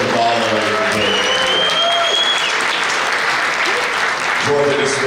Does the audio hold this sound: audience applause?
yes